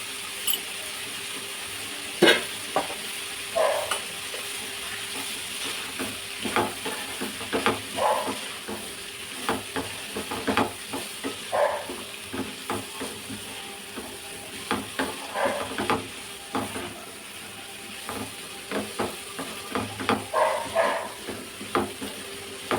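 Vegetables and egg cook in a pan with a low, steady sizzle, while a spoon scrapes and stirs in irregular bursts, close by and without talking.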